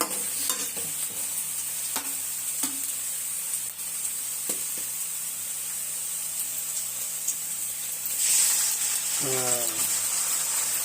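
Noodles with egg are stirred in a frying pan over a low sizzle, with occasional clinks and scrapes of a utensil against the pan, and a brief voice near the end.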